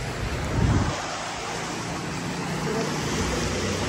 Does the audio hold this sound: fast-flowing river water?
yes